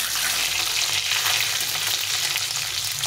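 Duck eggs frying in a pan, a steady dense sizzle of hot oil that holds loud and close throughout with no voices.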